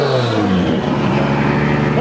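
Car drifting at a car meet on a parking lot, a loud, steady engine roar with sustained revving that fills the whole stretch, close by, with voices faintly mixed in.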